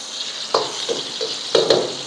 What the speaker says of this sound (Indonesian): Bawang putih kita tumis